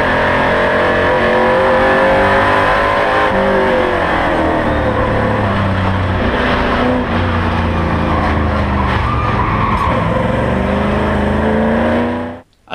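A race car roars around a track behind another car, its engine loud and close as it revs up and down through gear changes, with tire squeal and steady high-speed drone before cutting off abruptly.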